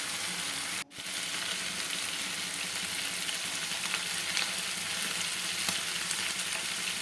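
Chicken fries in oil on a low flame with a dense, even, close sizzle that holds steady throughout, broken only by a brief dropout near the start, and no one speaks.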